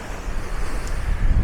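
Wind buffets the microphone on a kite-surfing beach in Hawaii, with waves rolling in on blue aquamarine water beneath a steady broadband rush that swells toward the end.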